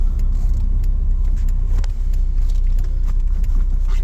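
Jeep Comanche pickup with a swapped Vortec 4200 engine driving hard, a loud steady rumble of engine and road noise filling the whole stretch, close up.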